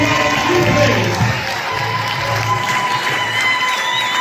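A church congregation at a French-language sermon claps and cheers for Jesus, a dense, loud wash of applause and crowd voices that swells at first and then holds steady.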